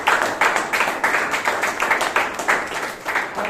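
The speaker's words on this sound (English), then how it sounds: "Please give him a big round of applause." Audience applause fills a Toastmasters meeting room in Bangalore, a steady wash of many hands clapping at close range with a rhythmic swell, carrying on alone without talk.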